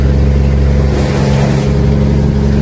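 A car engine hums steadily while driving on a road trip, loud and close with a constant low drone and slight rise in revs, no voices heard.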